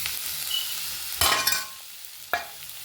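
Ginger garlic paste fries with sautéed onions in a pan, giving a steady hiss. Two sharper bursts of spattering and scraping from stirring stand out over the sizzle.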